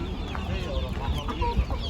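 Rooster and chickens clucking at the Ankara chicken market, brief scattered clucks amid crowd murmur and market bustle, voices faintly in the background.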